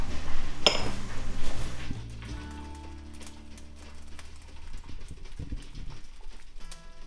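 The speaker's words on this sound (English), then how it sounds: "And now we're just going to fill our jars up with boiling water up to the 1-inch mark." Pint glass canning jars being filled with boiling water for pressure-canned green beans: a sharp glass clink near the start, then a steady low pour with soft knocks and faint ringing, close by.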